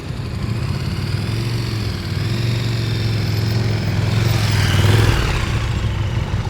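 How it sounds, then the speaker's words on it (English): A motorcycle engine runs steadily during slow-speed riding practice, a continuous low drone that swells a little as the rider's revs climb, heard from nearby without any speech over it. "All right, Tyler, let's get those RPMs up a little higher"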